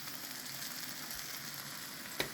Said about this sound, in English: at this stage, I'm gonna add our lemon juice.